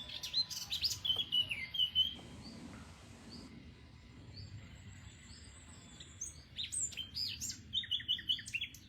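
Birds sing in a garden in Senouillac, bright chirps and tweets in bursts at the start and end, with a quieter, sparser stretch between over faint low background noise.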